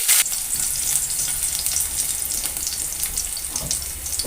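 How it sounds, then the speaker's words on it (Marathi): Mustard seeds and green chilies fry in hot oil, giving a loud, steady crackling sizzle with scattered pops throughout. "आता इथे आपली मोहरी चांगली तळतळलेली आहे आता त्यामध्ये आपण घालायची आहे हिरवी मिरची"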